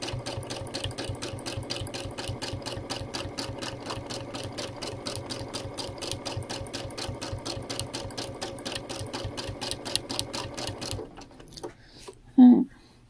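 A Brother sewing machine runs fast and close during free motion quilting, its needle clattering in a rapid, even rhythm for about eleven seconds before stopping, followed by a few quiet handling sounds.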